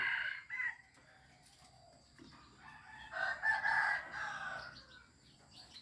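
A rooster crows inside a home where birds are kept, two bright calls, a short one at the start and a longer, louder one midway, close by and alone with no talk.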